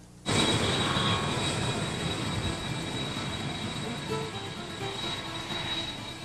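Steady roar of transport plane engines, loud and continuous from a sharp start, a droning aircraft sound running throughout with no talk.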